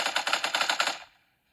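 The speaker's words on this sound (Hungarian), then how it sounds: "Nézzük, ha lövök egyet." Rapid burst of about eight gunshots from an automatic weapon in the video game PUBG, played on a rugged Ulefone Armor 20WT phone, loud and evenly paced before cutting off into a short fading tail.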